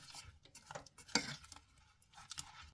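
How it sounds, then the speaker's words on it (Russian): Spoon stirring honey gingerbread dough with added cocoa in a bowl, soft scraping and knocking strokes at an uneven rhythm, close but quiet, with no voices. "И снова перемешиваем."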